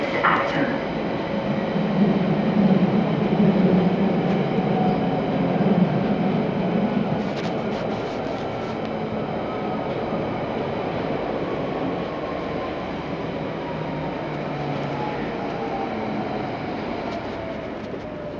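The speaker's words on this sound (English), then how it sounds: "This is a Central Line train to West Ruislip." A London Underground Central Line train rumbles steadily along the track near East Acton, a loud continuous roar with faint wheel squeal, heard from inside the carriage.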